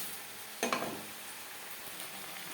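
Spices fry and get stirred in a hot pan for a fish curry with broad beans, a steady soft sizzle with a sharp scraping clatter of stirring early on, then continued hiss.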